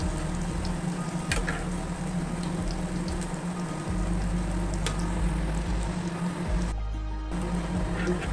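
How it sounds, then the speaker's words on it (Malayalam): Garlic frying in hot oil for a sardine curry, with a steady close sizzle and crackle that runs the whole way through. "വെളുത്തുള്ളി അതിന് മൂത്ത് വരുന്നുണ്ട്"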